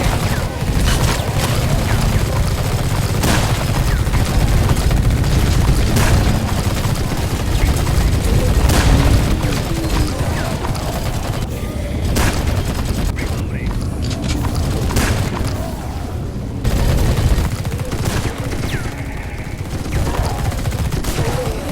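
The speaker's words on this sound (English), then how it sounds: "I'm just going to deploy all of my turrets in here." Deployed turrets in The Red Solstice keep up a continuous loud barrage of rapid fire and booming impacts, a dense, unbroken wall of gunfire with clanking mechanical noise throughout.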